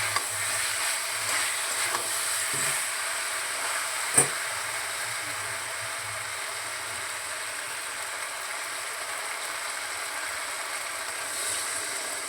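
A little water added to a hot cooking pan gives a steady, fairly quiet hiss and sizzle that holds throughout, with one sharp knock partway through.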